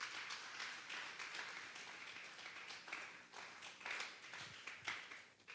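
A church congregation at a Sunday service applauds with steady, diffuse clapping from many hands, heard at a distance and fairly faint, holding at an even level for several seconds.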